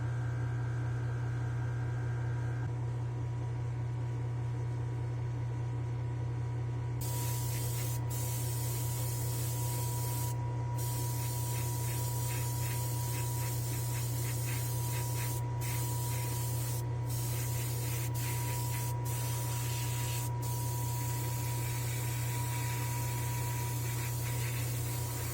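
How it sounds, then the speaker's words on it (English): A spray gun coats a van white inside a spray booth, producing a continuous loud hiss over a steady low hum of booth ventilation. A few very brief breaks interrupt the spraying partway through. "I'll meet you in the spray booth and we'll get this white done"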